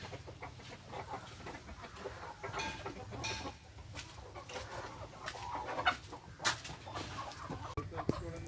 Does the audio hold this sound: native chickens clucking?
yes